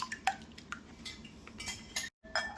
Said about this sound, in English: all of this together and get it well combined in here and really get it whisked together